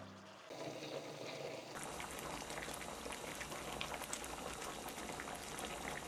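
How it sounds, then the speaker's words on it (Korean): Pumpkin jam with sugar and butter bubbling in a pot, a continuous soft boil of small popping bubbles that starts quieter and quickly settles into a steady, gentle simmer heard close up. "약 2분 정도 끓였는데 벌써 국물이 생기기 시작했어요"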